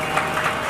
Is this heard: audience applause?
yes